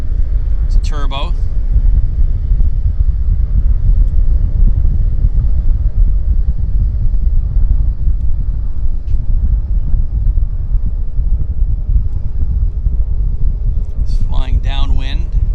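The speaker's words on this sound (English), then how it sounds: "Here comes another inbound aircraft." A turboprop floatplane arriving at Vancouver Harbour floatbase, heard as a continuous low rumble that holds steady throughout, with brief voices talking near the start and end.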